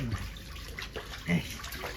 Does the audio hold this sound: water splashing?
yes